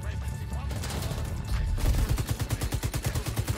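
Automatic gunfire in The Division 2 set in Washington, D.C., a rapid rhythmic burst of close, loud shots that starts midway and keeps going to the end.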